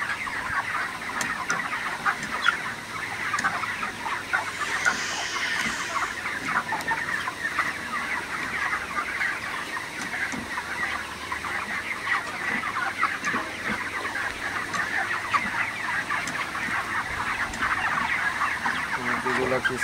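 A crowded poultry shed full of broiler chickens keeps up dense, continuous clucking and chattering throughout, loud and close, layered over a steady hiss.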